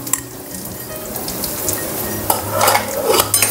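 Peanuts and cumin seeds are dry-roasted in a pan, with a soft continuous rustle and scraping of a stirring spoon that grows busier toward the end, close and without any voice.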